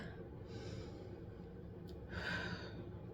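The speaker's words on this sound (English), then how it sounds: "putting my hand on my chest, taking a deep breath" A person takes a slow, deep breath with a hand on the chest: a soft airy inhale, a pause, then a louder exhale close to the microphone in a quiet room.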